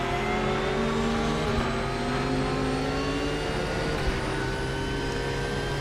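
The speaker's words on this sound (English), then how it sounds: "Just listen to that engine sound, man." A GT3 race car engine in the iRacing simulator drones steadily at high revs, its pitch shifting slightly with gear changes, loud and continuous with no talking.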